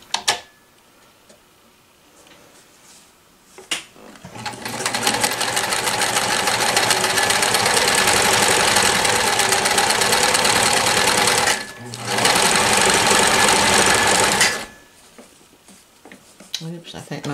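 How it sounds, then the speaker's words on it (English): A 1994 New Home Special Edition Model 108 sewing machine runs a blind hem stitch in a steady, close, rapid mechanical whir with ticking, starting after quiet handling noises, pausing briefly and resuming before stopping. "I'm getting a little closer in now so you can see the sewing a little better on the machine"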